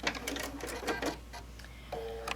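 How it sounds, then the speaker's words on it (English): Sewing machine stitching a quarter-inch seam allowance on a fat-quarter six pack tote bag, short bursts of mechanical whirring and clicking at close range with no talking. "you're going to stitch at your 1/4 of an inch seam allowance"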